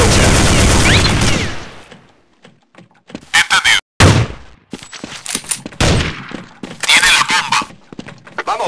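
Gunfire in Counter-Strike: Condition Zero on the Chateau map, a loud opening burst of rapid shots followed by sharp scattered single reports and short volleys separated by brief silences.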